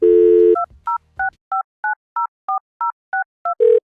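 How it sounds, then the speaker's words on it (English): A steady telephone dial tone stops, then eleven crisp DTMF key tones beep in an even rhythm as a phone number is dialed for a church dial-a-podcast line, and a short buzzy tone follows. "So now all you need to do is dial this phone number, and you can listen to the podcast."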